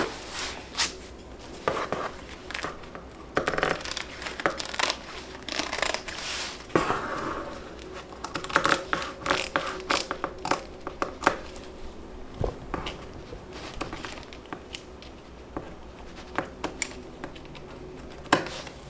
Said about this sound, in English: Let me cut a piece of the darker one.